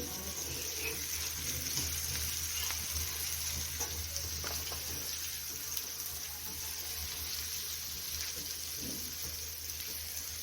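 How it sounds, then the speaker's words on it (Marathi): Flour-coated fish sizzles in hot oil in a pan, a steady dense crackling hiss that holds for the whole stretch with no talk over it. "तोपर्यंत हा मासा आपण फ्राय करून घेऊ"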